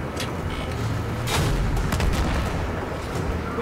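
Tank cannon fire in a desert tank battle in the Battlefield 3 campaign, heavy booming shots over continuous rumbling combat noise, loud and close with several blasts.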